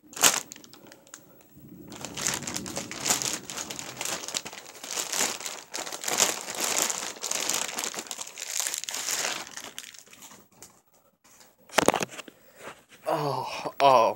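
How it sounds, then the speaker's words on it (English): Plastic packaging crinkles and crackles close up as it is pulled off a custom Calimacil foam weapon, a long stretch of rustling and tearing that ends in a few sharper crumples. "Let's take it out of the plastic first"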